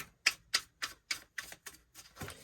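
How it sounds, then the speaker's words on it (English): Tarot cards being shuffled by hand: about eight quiet, evenly spaced card slaps close by, with no talking. "I'm going to do one more shuffle."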